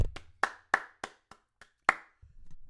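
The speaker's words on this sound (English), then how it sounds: "Let's actually applaud Apollo Crews" A single person claps about seven times in an uneven rhythm, the claps close and crisp with silence between them.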